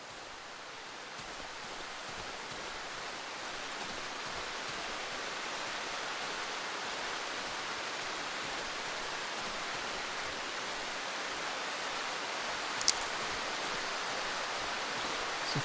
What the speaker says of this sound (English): Ah, hell, it's raining.